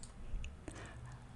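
A computer mouse button is clicked once while choosing an option in a software dialog box. The click is brief, light and close, with faint background hiss and no talking.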